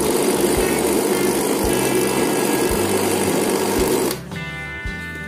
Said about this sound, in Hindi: हमें इसे और 30 सेकंड्स तक ग्राइंड करना है ताकि ये पूरी तरह से अपना तेल छोड़ दे।